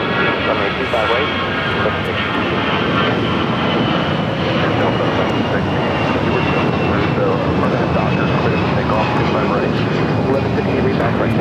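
A Delta Airbus A320 jet takes off at LAX bound for Kansas City, its engines a steady, loud roar with a rising whine that persists throughout while people talk over it.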